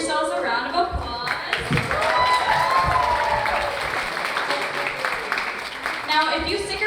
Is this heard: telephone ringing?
no